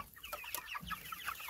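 Chickens raised for meat cluck and chatter close by at feeding time, a busy overlapping run of short calls with no talking.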